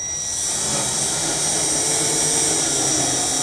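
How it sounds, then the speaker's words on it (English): A power drill with a 5/8 bit bores a hole through a plastic bucket lid, giving a continuous high whining motor drone up close, steady and loud for a few seconds with no voices. "take that same 5/8 drill bit and drill a hole in the lid"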